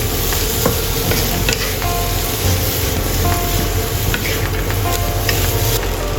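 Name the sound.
stir-frying sliced yam beans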